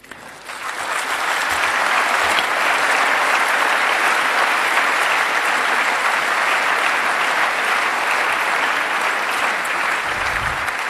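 A conference audience at a hacking talk applauds for about ten seconds, the clapping swelling quickly and holding as a dense, steady roar of many hands.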